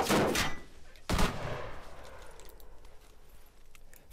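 Gunfire in the video game Arma 3 Altis Life, two loud nearby bursts with ringing echo trailing off across open terrain, followed by fainter distant pops.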